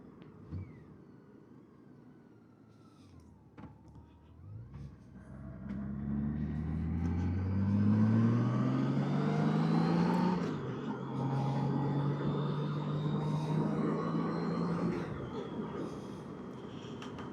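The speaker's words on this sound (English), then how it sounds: "if we pull the visor down, you probably will notice a difference in the sound with the visor down" Wind and road noise from a motorbike ride with the helmet visor down on a mild afternoon, a steady loud rush with engine tones rising through acceleration, holding high, then easing, with no talk.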